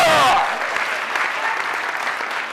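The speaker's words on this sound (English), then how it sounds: "Give the rebels a clap." Steady applause from a conference audience, dense clapping throughout after a brief cheer at the start, fairly loud and continuous.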